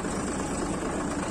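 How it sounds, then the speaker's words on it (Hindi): Tractor engine easing off during a ride, a steady low rumble with some vibration and no talk, fairly faint. "अपने ट्रैक्टर को स्लो कर लेते हैं थोड़ा"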